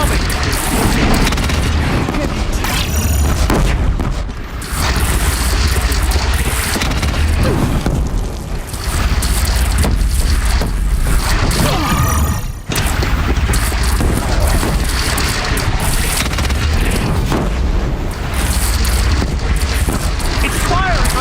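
Machine firing in Horizon Zero Dawn game combat, with dense booming explosions and gunfire-like blasts that continue almost without a break, loud and close, with a few brief dips and game voices mixed in.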